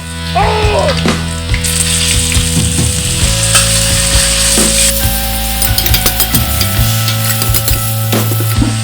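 Loud, continuous sizzling of sliced pork stir-frying with garlic in a hot pan, with scraping and clinking of a spatula throughout.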